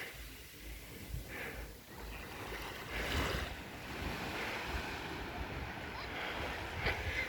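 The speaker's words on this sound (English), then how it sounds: "This beach is actually a really nice beach" Surf washes steadily onto a beach in a continuous broad rush with gentle swells and some wind buffeting the microphone, fairly quiet, no talk.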